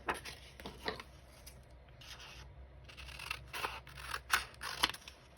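Scissors trim a printed paper image for a prayer journal, giving a series of close, quiet snips and paper rustles in irregular bursts with short pauses between cuts.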